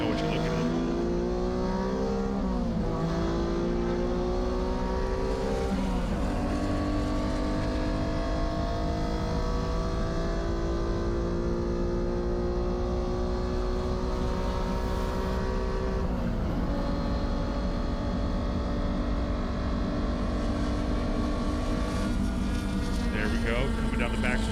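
Ravi's Honda NSX time attack car laps Road Atlanta during a Global Time Attack event, its engine droning loud and steady and rising in pitch through each gear, under continuous commentary.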